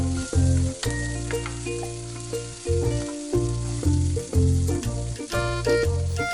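Pepper and fennel powder sautéing in a pan for Kerala-style pepper chicken: a steady close sizzle with repeated scraping stirs, no voices.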